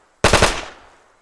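A close, sharp burst of automatic gunfire from the ARMA 3 military video game, three or four rapid shots that cut off quickly and leave a fading echo.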